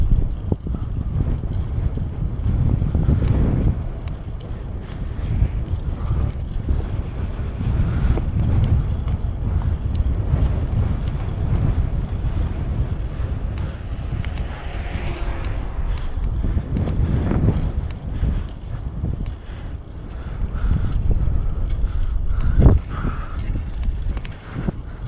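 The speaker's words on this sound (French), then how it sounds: "il y a du vent dans sa mère" Strong wind buffets the microphone on Mont Ventoux, a loud continuous low rumble with gusting surges and brief louder bursts, with no talk.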